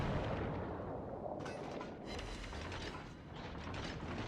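Nürnberg cruiser guns fire armor-piercing shells in World of Warships, a dense, continuous mechanical roar with booming bursts layered over clanking, surging again after a brief lull.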